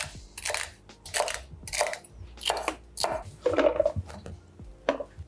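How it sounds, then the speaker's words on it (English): A knife chops celery stalks into small pieces on a board, about seven crisp, close, evenly spaced thuds with crunchy bursts between, clear and without talking. "So now I'll cut these celery."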